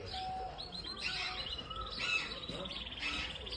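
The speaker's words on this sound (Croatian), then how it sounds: "ovo su vam dijamantni golubovi" Small birds in an aviary, among them diamond doves, chirping and tweeting in quick overlapping bursts, fairly faint and a little distant, with soft background ambience.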